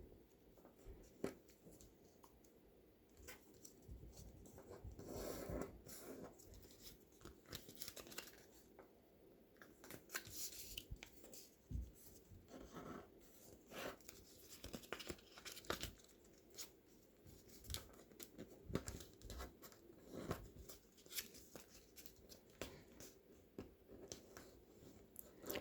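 Paper being folded and creased while making an F-14 Tomcat paper plane, heard as faint, close crinkles, rustles and sharp creasing scrapes scattered irregularly throughout.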